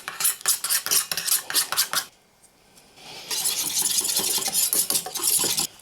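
A spoon briskly mixes honey, apple cider vinegar, black pepper and onion powder in a small bowl, rapid rhythmic clinks and scrapes, a short pause, then a denser continuous whisking rattle.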